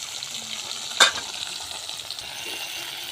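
Raw tomato, cumin and green chillies sizzle steadily in hot oil for a Bengali tilapia fish curry, with one sharp clatter of stirring near the one-second mark.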